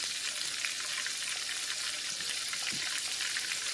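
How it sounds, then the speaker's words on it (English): Steady, loud sizzling and crackling of steak frying in deep hot oil, a dense continuous spatter with no talking. "we're gonna get right here and start the steak frying"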